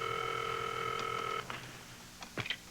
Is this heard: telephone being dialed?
yes